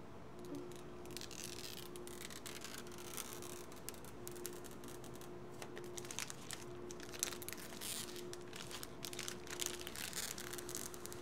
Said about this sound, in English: I'm gonna peel the corner a little bit and then pull it up.